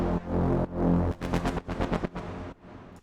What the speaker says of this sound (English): So then we have the brass stab.